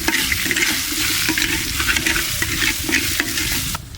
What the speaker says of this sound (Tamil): 2 பச்சை மிளகாய் நறுக்கி வச்சுருக்கோம், அதை நம்ம போட்டுக்கலாம்.